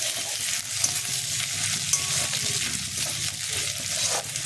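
A spoonful of ginger paste sizzling with reddened onions in a hot pan for vegetable chops, steady loud crackle broken by rhythmic spatula stirring and scraping, close up with no talking.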